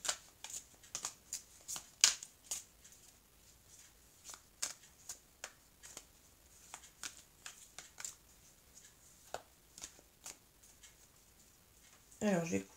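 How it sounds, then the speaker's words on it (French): Oracle cards being shuffled by hand, a steady run of soft, papery riffles and flicks repeating at a quick irregular rhythm, close and quiet, with a brief louder rustle at the end. "je vais prendre maintenant les cartes de l'oracle bleu pour compléter ici"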